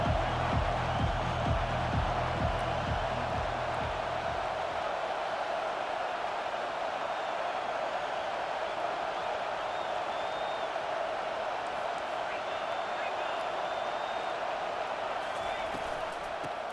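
Dense, steady stadium crowd roar from College Football 25, with Georgia playing, a constant wash of noise that runs throughout under continuous play-by-play commentary.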